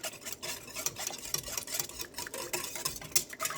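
Shortening being stirred into egg bread dough ingredients in a bowl, a steady run of scraping, clicking utensil strokes close up with no talking.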